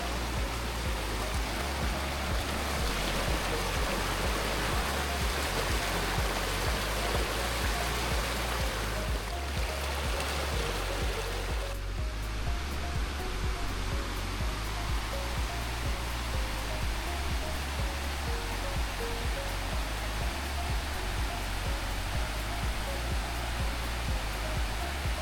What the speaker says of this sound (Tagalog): May maliit na sapa.